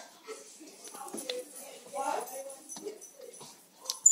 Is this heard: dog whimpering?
yes